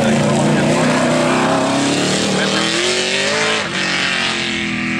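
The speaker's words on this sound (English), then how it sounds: "Another Mustang, two Fords, one after another." A Ford Mustang and other Ford cars race past at a motor event, their loud engines roaring in a continuous close wash of sound that dips in pitch as they go by.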